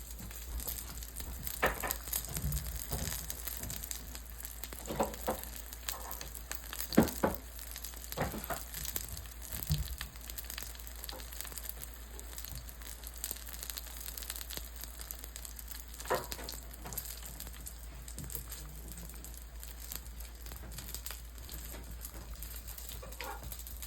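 Jamaican saltfish fritters fry in hot oil with a steady, quiet sizzle that runs the whole time, broken by occasional clicks and scrapes of a utensil against the pan.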